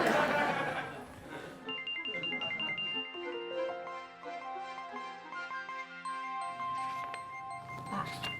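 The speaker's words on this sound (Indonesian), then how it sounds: "Pak Boris, ada yang nelfon." A phone ringtone plays for an incoming call, a tinkling electronic melody of stepped tones lasting several seconds, with brief talking and noise around its start and end.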